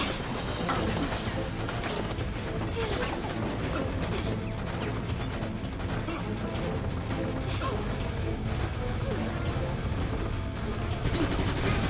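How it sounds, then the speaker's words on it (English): Dense, continuous combat in Resident Evil: Operation Raccoon City: rapid gunfire crackling with booming exploding-barrel blasts layered throughout, loud and sustained with no pauses. "Sweet explosions."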